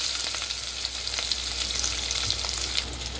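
Mustard seeds, cumin, bay leaf, curry leaves and onion frying in hot oil in a steel pot, a dense continuous close sizzle with faint crackles and no voices.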